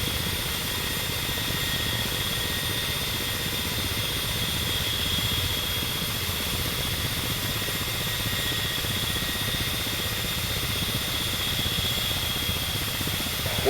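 A Ka-50 coaxial-rotor helicopter in flight in DCS gives a constant, dense rotor and turbine roar with a thin steady whine on top, holding unchanged throughout.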